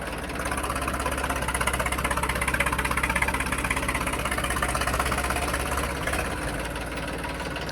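New Holland 3032 tractor engine running as it pulls a harrow, a steady rhythmic diesel chugging heard from nearby under broad wind and road noise, with no talk.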